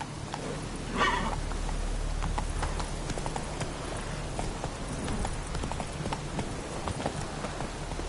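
Hooves of a horse galloping in The Witcher 3 video game on PS5 beat out a steady, fairly soft clip-clop rhythm, with a brief louder flourish near the start.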